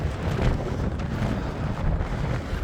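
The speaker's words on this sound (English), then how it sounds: "It's been headwind the whole way." A strong headwind buffets the microphone while cycling on a wet, windy day, a loud continuous low roar and rumble with no talk.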